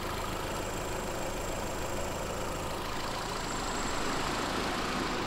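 A car engine idles steadily at close range while the radiator cooling fans switch on, adding a constant broadband whoosh over the low engine hum, with no talking.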